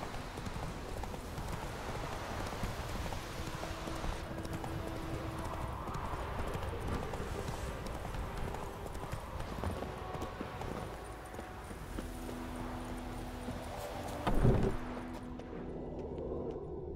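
Roach, the horse in the video game The Witcher 3, gallops with a continuous rapid clip-clop of hooves over faint wind and ambient game sound, and a brief louder thump-and-rustle bursts out near the end.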